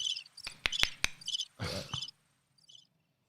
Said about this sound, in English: Had to throw the cricket in there.